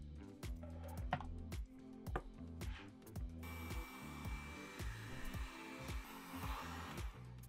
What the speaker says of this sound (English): We're gonna take a heat gun. And we're just gonna reheat the foam and heat up and make it a little bit rounder.